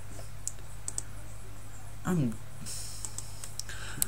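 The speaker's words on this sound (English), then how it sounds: "If the game will let me type in my password, that is." Light, scattered computer keyboard key clicks while a password is entered during a Spore session. Irregular single taps are spread across a quiet background, with a brief tonal sound midway.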